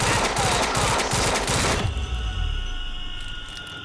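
Heavy-recoil gunfire in the game Quantum Break, a loud, rapid burst of close shots for about two seconds that cuts off into a booming thud and a fading rumble.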